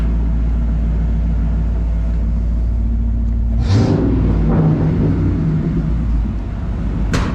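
A 1994 Ford F150 4x4 pickup engine idles with a low steady rumble, close and loud, broken by a brief rev or whoosh midway and another short sound near the end.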